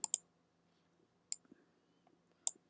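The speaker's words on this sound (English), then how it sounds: "I click duplicate" A computer mouse clicks quietly and sharply: a quick double click, then a pause, a single click, and more soft clicks in a quiet room.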